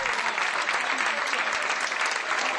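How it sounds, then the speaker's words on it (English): Dense, steady applause from a large crowd giving a standing ovation at a surprise homecoming reunion for an airman, a broad continuous roar of clapping filling the whole stretch. "The crowd gave this surprise reunion a standing ovation."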